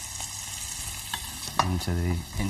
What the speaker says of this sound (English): So we take the chopped bacon and just pop that into